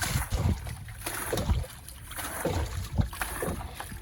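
A boat moving on open water under a cloudy, rainy sky, with low rhythmic sloshing and paddle-like splashes against the hull, close and steady with no talk.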